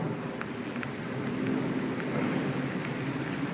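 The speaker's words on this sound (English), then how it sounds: "it's raining so heavy" Heavy rain falls outdoors in a steady, dense hiss with scattered pattering drops, continuous and moderately loud throughout.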